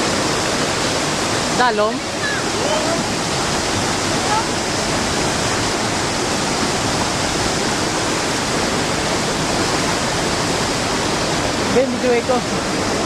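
Mambukal's Seven Falls in Murcia, Negros Occidental, roar as a dense, constant rush of falling water close by, with people briefly talking over it.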